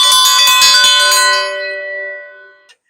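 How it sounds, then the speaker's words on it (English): A dinner bell is rung outdoors beside a griddle: a quick flurry of bright metallic strikes, then a long ringing decay that fades out, loud and close. "I'm going to go ring the dinner bell, let everybody know that it's time to eat."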